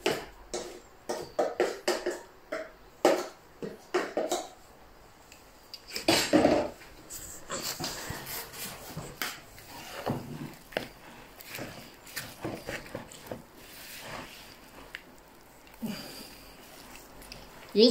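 Kneading a cauliflower patty mixture with eggs by hand in a bowl, giving soft irregular squishing and dabbing sounds with occasional clinks of a dish, some louder bursts, mostly close and quiet.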